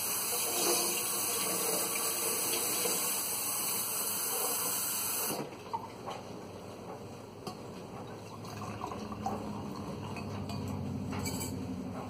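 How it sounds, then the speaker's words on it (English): Hot water pouring steadily into a cup, a continuous close hiss and splash that softens partway through, with a faint clink near the end. "You're going to get one whole cup of hot water."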